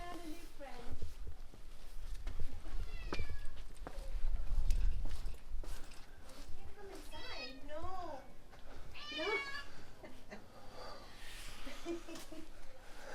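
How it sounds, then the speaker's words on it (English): A cat meows repeatedly near a dinner table on an island in the Azores, its rising and falling calls coming close in several bursts among people talking and clinking sounds. "I think the cat wants to come for dinner."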